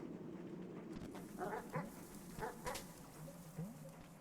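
Short yips and barks from a dog in the pixel-art video game Animal Well, a few clipped calls spread over a few seconds against a low, steady in-game ambient hum.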